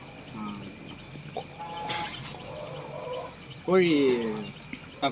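Chickens cluck and squawk close by on a farm, a rooster's call rising loudly near the end, with faint background voices and farmyard noise.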